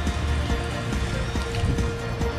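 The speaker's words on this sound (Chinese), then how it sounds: "那现在下起大雨了" Heavy rain pouring down at an outdoor baseball field, a dense continuous hiss of drops striking surfaces with scattered patters, steady and moderately loud with no voices.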